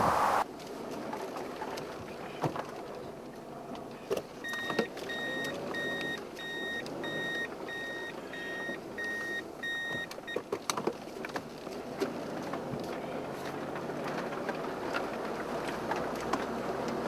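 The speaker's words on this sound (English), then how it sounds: "Got the best car for the fields, isn't it?" A car drives along a farm track through vegetable and sweet corn fields on a London farm, its engine and tyre rumble steady and close for the whole stretch, with a thin whining tone through the middle and no talk.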